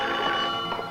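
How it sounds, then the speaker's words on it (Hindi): A telephone bell rings indoors in a home setting, a couple of bright trilling bursts heard fairly close and alone. "मैं जरा टेलीफोन सुन के आता हूँ"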